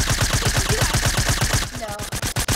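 Rapid automatic gunfire in Fortnite, a fast, evenly spaced burst of loud shots up close, slowing into a few separated shots at the end.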